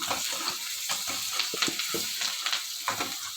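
Baby potatoes fry with curry leaves and turmeric while a spoon stirs through them, producing a close, busy sizzle broken by rapid scraping and clattering strokes against the pan, with no voices.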